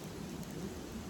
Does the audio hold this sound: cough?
no